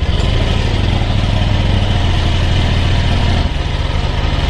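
A fuel-injected Honda Vario 125 scooter, serviced for hard starting and sputtering with valve adjustment and a new spark plug, idles steadily up close with an even, buzzing engine throb and no talk.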